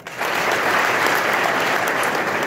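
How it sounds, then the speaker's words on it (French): Applause from an audience at a university rector's speech swells in quickly and holds as a thick, even roar of clapping for a couple of seconds. "Des applaudissements."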